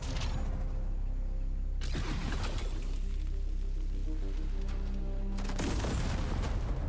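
Video game gunfire in Zephon, with bursts of shots and mechanical clatter in loud bands around two and six seconds over a steady game soundscape, without speech.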